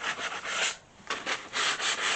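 Hand sanding of a wooden furniture piece during restoration in a workshop: close, steady back-and-forth rasping strokes in a rhythmic series with a brief pause midway, no voices.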